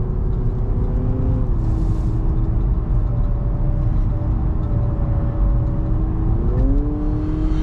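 Hybrid powertrain of a 2023 Honda Accord Hybrid in sport mode, giving a steady whirring engine drone that steps up in pitch twice, with constant road and cabin noise and no talk.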